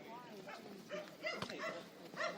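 A dog barks and whimpers in short bursts over voices and background noise at an under-16 football training session.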